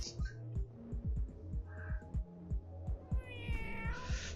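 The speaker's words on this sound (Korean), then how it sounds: "주인공은 고양이인 것 같습니다" A cat meowing in the video game Burn Stone, a parkour game about escaping explosions: short meows at the start and near the end, over a loud rhythmic pulsing game beat.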